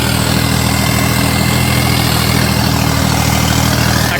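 A Swaraj 855 4x4 turbo tractor engine runs at 1600 rpm, a loud, close, steady diesel drone with an even low throb and no break.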